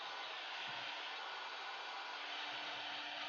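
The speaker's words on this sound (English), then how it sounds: "Set it to 50 degrees or use a hair dryer." A hair dryer runs steadily to dry drips of paint on a handmade axe, a constant airy whir at close range with no talk.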